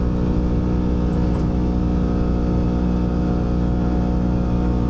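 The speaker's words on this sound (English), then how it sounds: "So I'm using all of the 110 horsepower right now to get up this hill" A Kawasaki Teryx KRX4 1000 side-by-side engine held at full throttle climbing a hill, a loud, steady droning roar with a constant pitch and no letup, heard close and alone.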